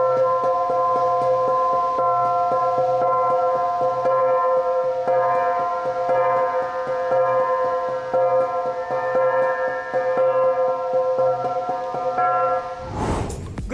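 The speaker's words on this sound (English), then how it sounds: "The lead gong." Gong struck at a Filipino textile and tradition exhibit at a museum, a sustained ringing metallic tone with layered harmonics hanging steadily for many seconds before a sudden loud thump at the end.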